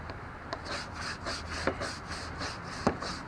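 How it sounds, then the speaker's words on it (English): A wood deck is scrubbed with TSP cleaner, a soft, steady brushing rasp with a few sharper knocks, fairly quiet and close with no talking. "You can see when I scrub here, the color's coming back."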